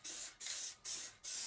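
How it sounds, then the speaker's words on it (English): HMG satin black enamel aerosol paint sprays in four short, even hissing bursts with brief pauses between them, close to the microphone and with no one talking. "as I'm spraying the paint, it looks very shiny indeed"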